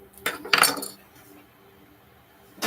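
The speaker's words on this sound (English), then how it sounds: "So I'm rinsing my knife" A metal painting knife clinks against a container while being rinsed, two bright clattering bursts close together near the start, then quiet, with another clink at the very end.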